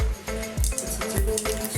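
Mustard seeds dropped into hot oil for a Gujarati dudhi chana dal shaak, crackling and sizzling in a quick pulsing rhythm with several sharp pops, close and fairly quiet, with no talk.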